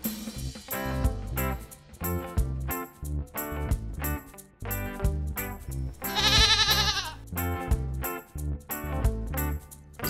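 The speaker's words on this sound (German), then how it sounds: "So klingt das, wenn eine Ziege sich freut." A happy goat bleats in a long run of loud, rhythmic, wavering calls, close and clear, with one especially high, strained bleat near the middle.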